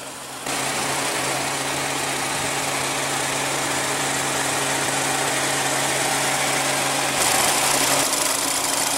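A 2016 Ford Escape's 1.6-liter EcoBoost turbocharged four-cylinder idles in a steady, loud, even hum that comes in after a brief moment and holds without change.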